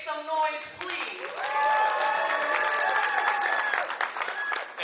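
An awards symposium audience applauding and cheering, a sustained burst of clapping and whoops from a crowd, loud and continuous, beginning just after a voice on a microphone.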